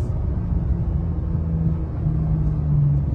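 A Porsche 911 Turbo S drives along a narrow road, heard from inside the cabin as a muffled, steady low engine rumble that stays even throughout, with no talking.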